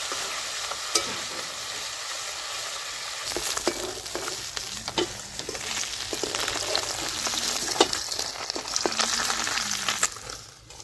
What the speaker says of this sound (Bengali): মাছ ভাজার তেলের মধ্যে ফোড়ন দিয়ে দিচ্ছি গোটা জিরে